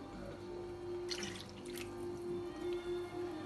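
Milk pouring into a pot while making mac and cheese, a soft steady liquid trickle with a faint dripping quality, close and quiet, with no talking.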